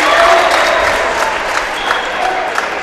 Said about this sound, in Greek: Τον χειροκροτούν ένθερμα οι φίλοι των φιλοξενούμενων που βρίσκονται σήμερα στην Κυψέλη.